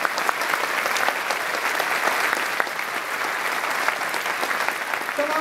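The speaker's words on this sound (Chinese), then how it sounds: "请各位给他们一些掌声好不好" A crowd at the COSCUP 2013 closing ceremony applauds the sponsors, a continuous, even clatter of many hands clapping at moderate volume from across a hall.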